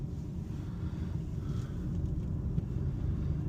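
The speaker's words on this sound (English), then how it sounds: "We've got a little bit of tyre roll because the front tyres are shot." Low, steady road rumble from the worn-out front tyres of an electric car rolling along, a continuous droning hum with no engine note, heard alone and fairly constant throughout.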